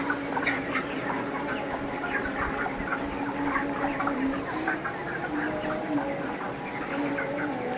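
Poultry-farm chickens, mostly young white hens from a batch of about 520, cluck and chatter continuously around the listener, a busy overlapping flock murmur with scattered louder clucks.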